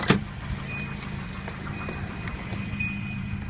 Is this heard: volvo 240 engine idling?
yes